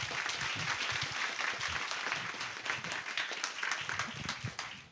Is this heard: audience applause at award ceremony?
yes